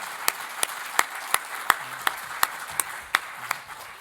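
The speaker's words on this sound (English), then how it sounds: "let's give them a round of applause" Scattered hand claps ring out from a small audience at an awards luncheon. The sharp, separate claps are irregular and moderately close, and they fade out over a few seconds.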